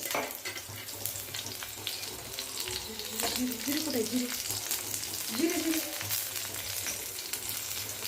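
Oil heats in a pan alongside already roasted green chillies, giving a constant close sizzle and crackle with occasional stirring scrapes, and a faint voice underneath.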